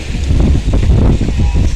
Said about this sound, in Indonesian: untuk menikmati sinar matahari sore ya, menikmati indahnya laut, semilira angin, dan merdunya suara ombak teman-teman ya